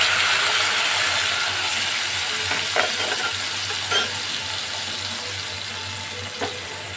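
Ginger-tomato paste fries in a pan with cardamom in a Bengali vegetarian doi potol curry, giving a close, steady, loud sizzle with a few soft stirring scrapes.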